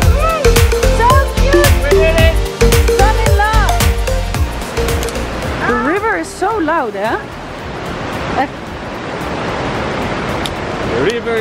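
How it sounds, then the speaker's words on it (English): Loud rushing water roars continuously while people talk and shout excitedly over it, the voices fading as the steady torrent takes over. "The river is so loud"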